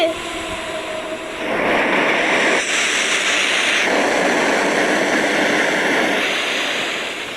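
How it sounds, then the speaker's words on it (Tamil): A broad rising wail like a warning siren sounding before a tsunami in a video game, swelling after a second and holding loud and steady with slight wavering before easing off at the end. "சங்கு ஊதுட்டாங்க"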